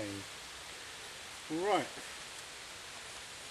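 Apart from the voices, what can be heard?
rain falling in pine woods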